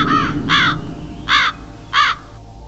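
A crow gives four loud, harsh caws in an uneven rhythm, two close together and then two more after a short pause, clear and near against a quiet background.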